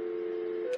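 A few quick DTMF tones ring out as a number is keyed on a home telephone system, with a short, near, clean sequence ending in a brief click.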